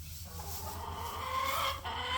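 Farm chickens cluck softly in short, irregular bursts close by over a low background hum.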